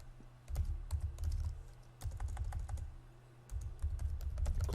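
Keys clack on a computer keyboard in irregular bursts of typing, close but quiet, with short pauses between runs of keystrokes.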